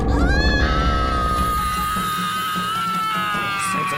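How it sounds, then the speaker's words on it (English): A young girl screams loud and long, her piercing wail wavering and sliding in pitch before thinning into a strained, ringing tone that holds to the end. "I just watched the kid scream so hard she melted into goo."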